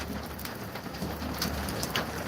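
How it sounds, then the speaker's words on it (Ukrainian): Rain turning to hail drums on a farm shed beside the pig pens, a continuous close patter with scattered sharper impacts, and a few faint bird calls in the background with no talking. "А тут град почався. Спочатку дощ, потім град."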